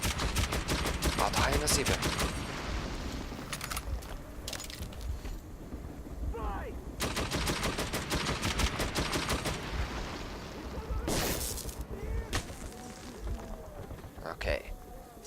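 Gunfire in the video game Metro 2033, with several loud bursts of rapid shots and single cracks separated by pauses, while people talk over the game.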